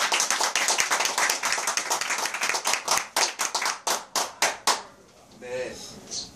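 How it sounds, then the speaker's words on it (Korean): An audience at a health lecture forum claps in a dense, lively burst of applause that thins to scattered claps and stops, followed by a brief voice. "우리 엄청난 박수 한번 해주시죠."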